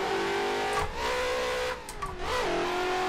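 Race car engine in Assetto Corsa screaming at high revs at full speed, a steady loud drone that dips briefly as it shifts and then climbs again, with faint tire squeal.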